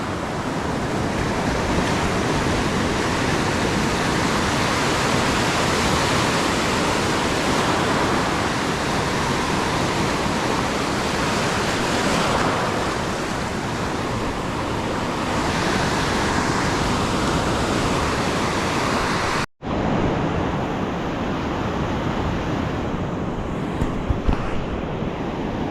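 Waves breaking on a beach at low tide while surf fishing, a continuous loud wash of surf and wind that fills the whole stretch, with one very brief cutout near the end.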